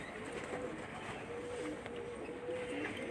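Lal Pari pigeons coo softly and steadily, a low repeated murmuring heard at moderate distance over a constant background hum, with no clear talk.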